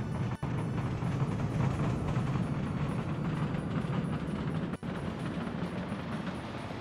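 A train in Workers and Resources rolls along with a steady, loud rumbling roar that fills the whole stretch, broken only by two brief dropouts.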